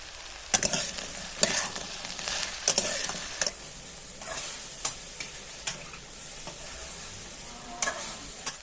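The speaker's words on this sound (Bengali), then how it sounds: "এবার ঢেঁড়সগুলিকে দিয়ে খুব ভালোভাবে নেড়ে চেড়ে" Okra being stirred and fried in a pan, a steady sizzle of oil broken by repeated sharp scraping and clanking strokes of a spatula at irregular intervals, close and fairly loud.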